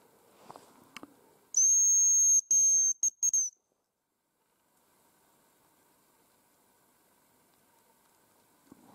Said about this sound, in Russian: Свищу, никто не отвечает.